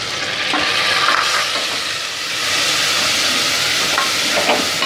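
Garlic, ginger and onion frying in a pan for an egg curry, a steady loud sizzle with faint scraping as they are stirred, close and continuous with no talk.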